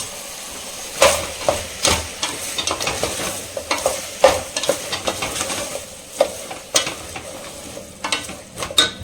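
Ginger and garlic frying with garam masala in a pan, stirred briskly with rapid, rhythmic scrapes and clinks over a constant loud sizzle, close and continuous without talk.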